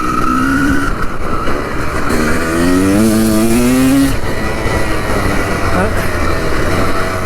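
Honda 250CR two-stroke dirt bike engine revving near the mic, pitch climbing and wavering as the throttle opens with an audible stumble before it picks up, then settling into a steady drone; a brief voice is heard.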